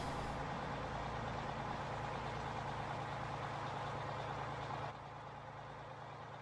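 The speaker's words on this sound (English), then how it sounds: "start the course on the truck" A truck in Farming Simulator 15 on the Idaho map runs with a steady, droning engine rumble that holds constant throughout, easing slightly quieter near the end, with no talking over it.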